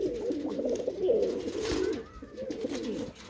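Pigeons kept in a net enclosure coo softly in low, rolling phrases, several close calls overlapping against light background noise, with no clear talking.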